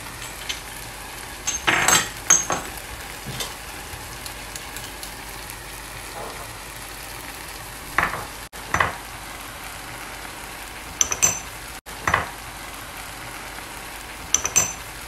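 Green peppers for Moroccan stuffed mhadjeb cook in a pan with a soft, steady sizzle, broken by scattered scraping and clinking stirs from a utensil against the pan.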